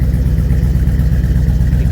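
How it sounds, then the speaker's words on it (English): A 1961 Ford F100 pickup's V8 with an aftermarket cam idles close and loud, its choppy, lumpy exhaust pulse running steadily throughout. "Got a cam in that motor. A little chop to it."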